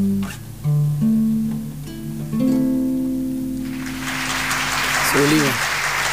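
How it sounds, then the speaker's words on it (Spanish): Audience applause after a tango song performed live on a radio broadcast, a broad hiss of clapping swelling in the second half and continuing after the singer's last held notes. "los aplausos no paran"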